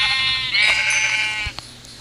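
A sheep in the Minecraft video game bleats in a single clear, wavering call that fades out, followed by a couple of soft clicks.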